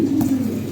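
Lahori pigeons cooing inside a delivery box, a low steady murmuring coo held close and continuous through the short moment, with no voices.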